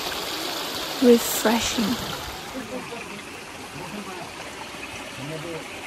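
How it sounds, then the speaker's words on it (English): A hillside stream flows near a field campsite in the Tangkhul villages, a soft, constant watery rush beneath a man's brief spoken remark, continuing alone at low level afterward. "The sound of insects, the sound of flowing water,"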